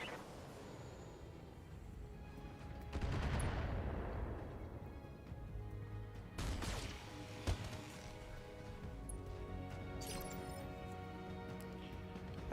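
Mech weapons fire in the BattleTech (2018) game: a heavy barrage of long- and short-range shots bursts out with a big rumbling impact, then sharper cracks and blasts follow over a steady background bed.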